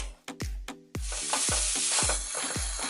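Butter-rubbed bagels, four of them, sizzle on a hot griddle, opening with a few sharp clinks and taps before a steady, loud frying hiss sets in, broken by repeated soft thuds as the bagels are handled.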